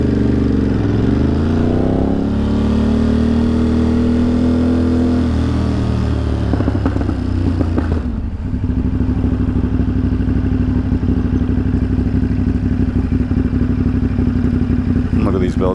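Motorcycle cruising through New York City streets during a group ride to Ducati NYC, its engine droning steadily and loud throughout, with gear-change shifts and rising pitch early on amid traffic clatter.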